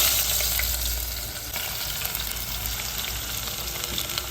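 Minced keema and liver frying in a pressure cooker in Jodhpur, a steady close sizzle with faint stirring scrapes throughout, no voices.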